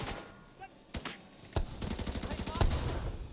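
Bursts of automatic gunfire in The Division 2, a few sharp shots followed by sustained rapid rattling that grows louder toward the end, with no speech over it.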